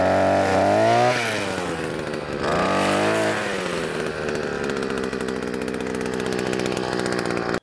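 A Ruris DAC335 multifunction brushcutter with a 52cc engine revs hard, rising and falling twice before settling into a loud, sustained high-revving whine.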